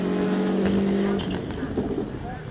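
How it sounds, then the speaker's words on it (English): An onboard rallycross car engine drones loudly as it climbs a hill in third gear at Lydden Hill, steady high revs then breaking into rougher noise, with a commentator talking over it. "Ollie O'Donovan is third as he grabs third gear and climbs the hill on board now"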